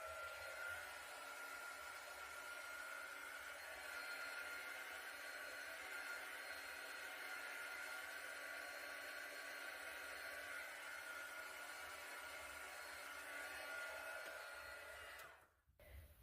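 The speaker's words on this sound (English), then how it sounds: "I'm just going to hit this with a heat gun." A heat gun blows a steady, faint whooshing roar over acrylic paint on a swipe-technique canvas, running continuously before cutting off abruptly near the end.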